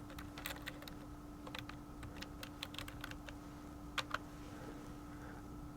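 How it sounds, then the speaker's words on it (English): Brief bursts of computer keyboard typing, a quick run of clicks entering a search, close and fairly quiet over a steady low electrical hum with no talk. "So if I were to type in driver distraction,"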